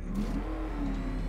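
The Batmobile in the video game Batman: Arkham Knight accelerates, a loud close engine roar with a rising revving pitch sustained for just over a second.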